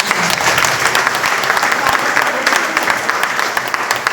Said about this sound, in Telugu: ఆయన ఒకసారి గట్టిగా క్లాప్స్